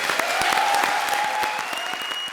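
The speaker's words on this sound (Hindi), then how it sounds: "तो जरा कृष्णा के लिए जोरदार तालियां हो जाएं।" Studio audience applause on an Indian TV comedy show, a dense steady clatter of many hands clapping throughout, fairly loud and close, with a faint tonal music line underneath and no talk.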